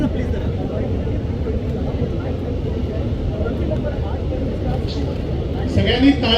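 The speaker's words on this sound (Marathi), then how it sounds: "witness this historic moment of the landing of A320 Indigo aircraft" An IndiGo A320 passenger aircraft landing at an airport, heard as a steady broad roar of engine and rushing noise throughout, swelling slightly near the end, with a crowd audible faintly underneath.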